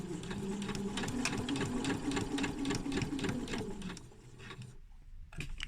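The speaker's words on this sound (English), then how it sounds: "We're then going to continue sewing all the way around." A sewing machine stitches a beginner's mini pincushion, its needle chattering in a fast, even rhythm for about four seconds before stopping abruptly, followed by a short quiet pause and faint handling.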